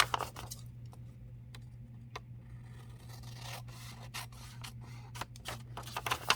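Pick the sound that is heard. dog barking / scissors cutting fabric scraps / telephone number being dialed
scissors cutting fabric scraps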